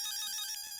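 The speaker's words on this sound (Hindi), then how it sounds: "फोन आया" An electronic phone ringtone chimes indoors in a short burst of bright, steady tonal ringing at moderate loudness, with no voices.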